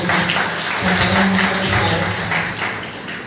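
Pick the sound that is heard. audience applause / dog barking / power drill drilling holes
audience applause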